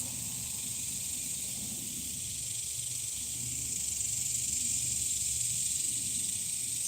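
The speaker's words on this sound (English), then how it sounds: "They're cicadas. That's their mating call." Cicadas sounding their mating call, a dense, unbroken high-pitched buzzing hiss that holds steady and swells slightly louder toward the end, with no voices.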